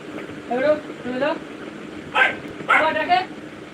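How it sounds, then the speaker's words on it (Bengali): Dogs, including puppies, bark and yip at night in a few short bursts at moderate distance, with people talking over them. "দেখে তো শুনতে পাচ্ছ কি পরিমাণে কুকুর ডাকছে রাতে"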